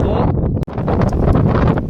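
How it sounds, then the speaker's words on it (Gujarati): Strong wind buffets the microphone outdoors in a loud, continuous rushing roar, with one brief dropout, while people talk over it. "પવન બહુ ઝાઝો છે"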